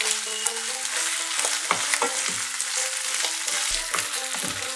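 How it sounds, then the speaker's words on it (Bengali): Chopped medium tomato frying in a pan for a duck egg kosha, a loud dense sizzle with repeated stirring scrapes and a brief low thump, no voices. "এটাকেও একটু ভালো করে কষে নেব"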